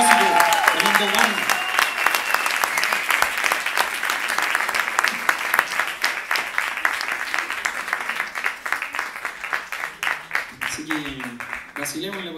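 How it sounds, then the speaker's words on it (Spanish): Audience applause fills a small concert at a cultural centre, dense rhythmic clapping that holds steady and then thins out toward the end, with someone speaking over the start and again at the close. "Un aplauso estrepitoso ya"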